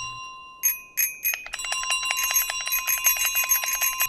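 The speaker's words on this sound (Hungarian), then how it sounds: "én is csengőzök." Bell ringing in Untitled Goose Game, a few separate bright dings at first, then rapid, repeated ringing in a quick steady rhythm, clear and close with no talk.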